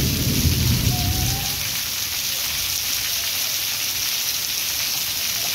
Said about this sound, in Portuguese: Que bom registrar chuvas intensas assim para vocês que estão aí do outro lado da telinha.